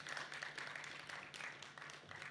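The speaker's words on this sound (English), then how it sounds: "A warm round of applause." Quiet, steady applause from an audience at a breakfast session of a forced-displacement investment forum, continuous dense clapping heard from a distance at low volume.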